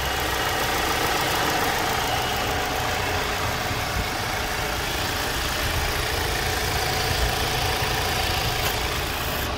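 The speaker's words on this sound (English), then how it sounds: "let you hear the engine running uninterrupted" A 2017 Audi A4 Allroad Quattro with S tronic transmission idles steadily under the hood, a constant close engine hum with a low mechanical texture and no talking.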